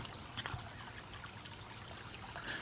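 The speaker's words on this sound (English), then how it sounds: "let me turn this water off real quick" Water trickling and pouring steadily from a hose or tap into a backyard fish tank holding goldfish, minnows and guppies, a faint, continuous splashing stream with a few small drips, heard alone and fairly distant.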